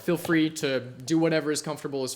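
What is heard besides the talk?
No everyday noises stand out.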